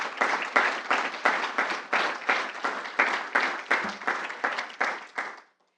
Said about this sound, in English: Let's give a round of applause for Rose Kalili.